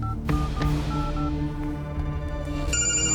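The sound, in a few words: phone ringing on a call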